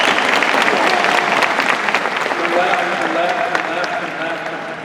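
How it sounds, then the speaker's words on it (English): A crowd at a bridleless horse riding demonstration breaks into loud, sustained applause with cheering, a dense wash of clapping that fills the arena and slowly tapers toward the end. "And the crowd goes wild."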